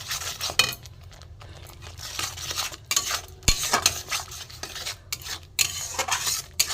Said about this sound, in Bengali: নুন দিয়ে দেবো, এখানে অল্প করে চিনি দিয়ে দেবো, দিয়ে আমি কষিয়ে নেব।